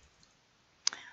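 A computer mouse gives a quick double-click, two faint, crisp clicks close together in an otherwise quiet moment.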